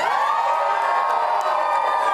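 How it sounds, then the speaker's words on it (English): A live show audience cheers and whoops for a singer in a steady, loud burst of crowd voices with little distinct clapping. "round of applause for our chanteur"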